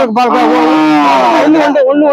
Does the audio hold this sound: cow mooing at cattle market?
yes